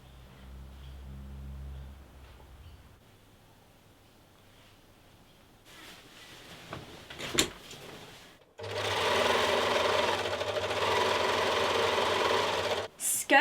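An overlocker runs along all four fabric edges of skirt pieces for a dress, sewing in a loud, steady, buzzing burst near the end, after quieter handling of the cloth.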